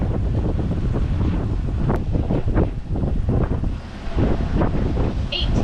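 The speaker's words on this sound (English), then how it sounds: "Wind's like 10 to 15 knots right now." Wind of 10 to 15 knots at sea aboard a sailboat offshore, a loud continuous roar buffeting the microphone, with a few surges and dips and no clear talk.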